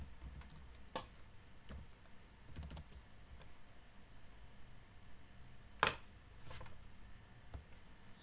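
Quiet, steady typing of code on a computer keyboard, scattered keystrokes with a few louder clacks, one sharp key hit standing out near the end, heard close and alone.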